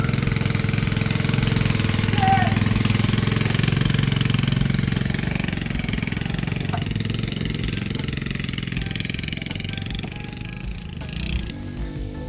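Tao Tao kids ATV swapped with a Banshee engine running steadily at a rough idle, loud and close for most of the stretch, then easing slightly toward the end with some clatter.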